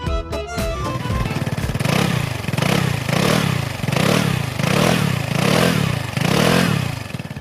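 A Piaggio scooter's air-cooled three-valve E-Jet engine runs close by with a steady mid-pitched drone, swelling in regular rhythmic surges roughly every half second after a brief rattling start.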